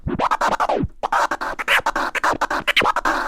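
DJ turntable scratch twiddles: rapid chopped bursts of record scratching with sweeping pitch rises and falls, loud and close, in a quick stuttering rhythm without talk.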